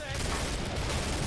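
Rapid gunfire from the co-op shooter Killing Floor, a dense continuous burst of shots mixed with other game noise, with voices faintly present underneath.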